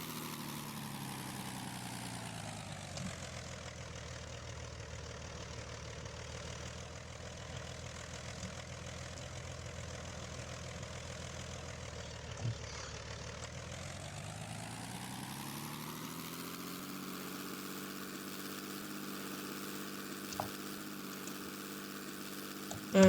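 Propeller engine of a 1910s military airplane in a flight game, a steady droning hum at low power that holds level, dips and then settles at a slightly different pitch as the plane comes in to land, with no talking.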